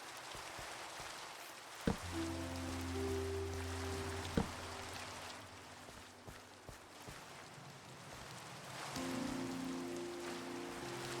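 Rain falls in the game Minecraft as a soft, steady patter under quiet tonal background music, with a few sharp taps standing out; no voices.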